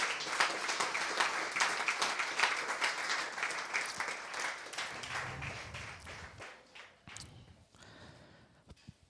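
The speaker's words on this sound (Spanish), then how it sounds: "Dale un gran aplauso al Señor." A church congregation applauds in praise during a Spanish-language worship service, with dense clapping that gradually thins and fades toward the end.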